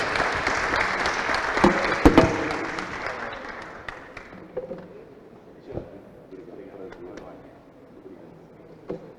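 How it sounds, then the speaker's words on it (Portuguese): An audience at a business panel on innovation with CEOs applauds the panelists, the clapping loud at first and then thinning to scattered claps as it fades. "eu gostaria de uma salva de palmas aqui para os nossos panelistas"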